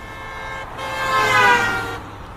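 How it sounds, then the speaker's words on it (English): A vehicle on a desert road drives past close by, its hum swelling to a peak midway and fading, with a steady horn-like tone sounding over the pass. "Is that a car?"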